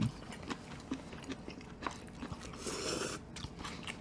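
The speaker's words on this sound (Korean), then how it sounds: "꼬마 돈가스 씹어 주셔야죠" Close-up crunchy chewing and biting of a mini pork cutlet (kkoma tonkatsu) during a Korean home-meal mukbang, with repeated irregular crunches and wet mouth sounds throughout.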